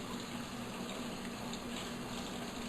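Cold tap water runs steadily into a kitchen sink while a whole poultry bird is washed, a continuous soft, even gush heard close up without talk.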